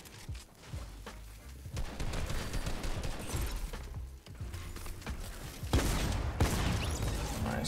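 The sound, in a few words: gunshots in video game (Fortnite)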